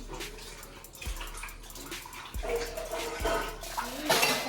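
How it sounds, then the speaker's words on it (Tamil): Water runs and splashes as cut tapioca pieces are washed in a vessel, with steady rushing flow punctuated by a few clunks and a louder gush near the end. "ஸோ ஒரு வாட்டி கட் பண்ணிட்டு வாஷ் பண்ணுவோம்"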